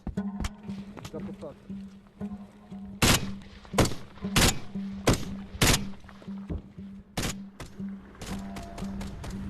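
Mortar shelling in a Donbas war zone: several loud, sharp booming impacts strike at irregular intervals over a steady low hum, with people talking between the blasts.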